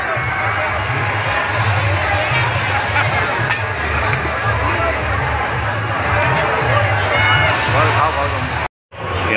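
Large crowd at a Ramleela festival in Factory Estate, Shahjahanpur, forming a steady outdoor hubbub of many overlapping voices and movement, close and fairly loud, with a nearby voice speaking over it and a brief dropout near the end.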